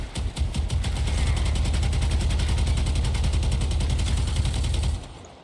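The twin Kohmaks guns fire in a video game as a rapid, steady burst of shots that is loud and close, with a rattling pulse running for about five seconds before it cuts off.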